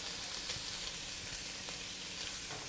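Pickled mustard greens and pork belly frying in a wok, giving a steady dense sizzle with light stirring scrapes, close and continuous throughout.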